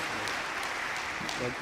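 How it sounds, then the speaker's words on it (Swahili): An audience at the Tanzania Health Summit 2023 applauds the guest of honour with steady, dense clapping throughout, a voice speaking faintly underneath. "Naomba makofi mengi sana kwa mheshimiwa mgeni wetu rasmi."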